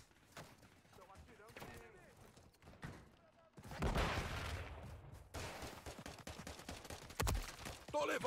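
Gunfire in the video game Call of Duty Modern Warfare 3, a sniper among the shooters, with scattered shots early and then dense, loud bursts of fire mixed with game noise and talk.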